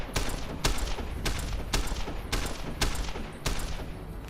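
Rapid volleys of gunfire at a shooting range in Fallout: New Vegas, about seven sharp, loud shots in a steady rhythm with echoing tails, close up and with no talking.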